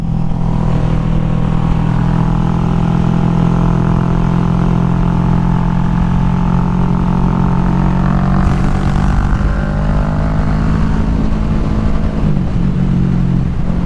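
A motorcycle engine drones loudly and close up while riding along dusty winding roads, holding a steady tone with harmonics that rise slightly as it revs near the end; no voices.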